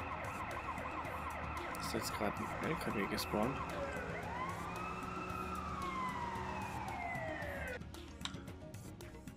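An ambulance siren in the video game SimCity 4 Deluxe wails in long rising and falling sweeps amid busy city game sounds, then cuts off abruptly, while someone talks over it.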